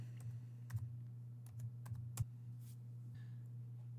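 Search term typed on a computer keyboard: scattered light key taps in short clusters, close and quiet, over a steady low hum.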